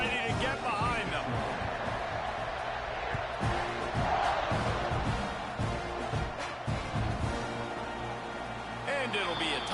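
Stadium crowd noise in the NCAA College Football 26 video game, a broad continuous roar with swells of cheering around a kickoff, heard beneath steady play-by-play commentary.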